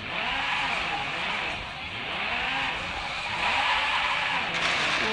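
A drift car slides through a roundabout with a long, sustained tire squeal, the engine droning loud and fairly close beneath the skid for several seconds.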